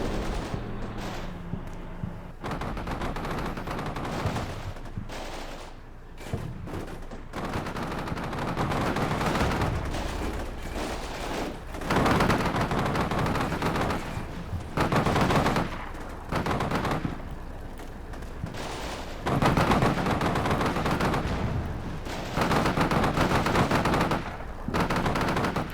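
Sustained gunfire in the combat video game Combat Mission Shock Force 2, with loud, dense machine-gun bursts and rifle shots rolling almost continuously with only short pauses.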